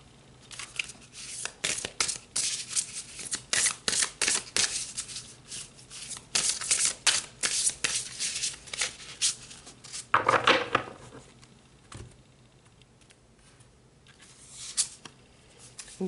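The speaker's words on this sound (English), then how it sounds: "Let's pull some more cards." Tarot cards are shuffled and pulled close by, with quick riffling bursts in irregular rhythm, then softer card handling and sliding, with no voices.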